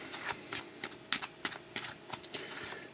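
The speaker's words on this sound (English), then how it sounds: "a good shuffle" A deck of playing cards is shuffled up close for a dice poker game, a rapid run of crisp riffling bursts and soft taps in an uneven rhythm.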